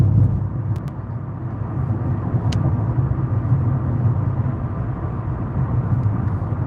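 Car driving slowly along a road, a steady low rumble of engine and tyre noise at moderate level with no talk, plus a couple of brief faint clicks.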